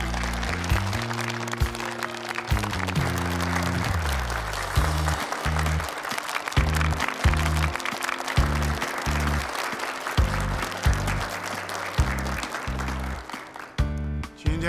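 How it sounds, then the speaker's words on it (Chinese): Applause from an audience at a project launch ceremony, a sustained loud clatter of clapping that carries on for many seconds while music plays underneath. "大家掌声欢迎"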